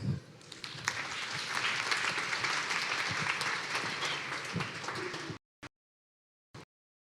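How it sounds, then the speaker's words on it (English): Conference audience applauds as an engineering manager is welcomed onstage, a dense, even wash of clapping lasting several seconds before cutting off abruptly into near silence with a couple of brief faint sounds. "Please give her a warm round of applause."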